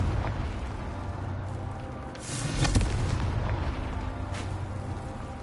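A fiery spell blast in the wizarding video game Hogwarts Legacy, with a booming burst near the middle that rises out of a steady rumbling game backdrop.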